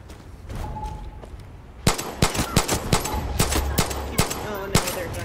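Enemy gunfire in Far Cry 6 erupts after a quieter start, sharp rapid shots cracking in uneven bursts, loud and close, with no talk over it.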